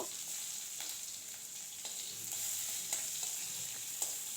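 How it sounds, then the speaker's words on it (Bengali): Chopped onion fries lightly in hot oil tempered with black cumin seeds, giving a soft, steady sizzle with occasional scrapes of stirring in the pan, quiet and without talk. "পেঁয়াজ কুচিটা দিয়ে হালকা করে ভাজা করে নেব।"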